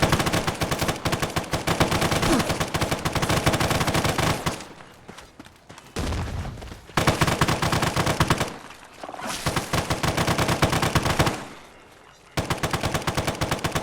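Sustained bursts of enemy gunfire from a sentry bot in Fallout 4, loud and rapid, broken by a few short pauses, with no talking over it.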